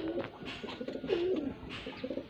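Faisalabad pigeons coo softly, close by, in repeated low throaty calls over a couple of seconds.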